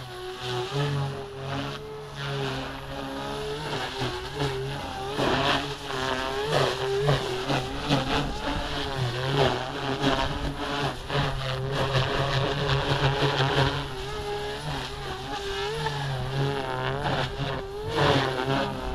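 An OMPHOBBY MultiStar RC helicopter with a 3-blade rotor spins at 2800 RPM 3D head speed, giving a continuous whining, buzzing drone that surges and dips as it maneuvers, moderately distant and steady throughout.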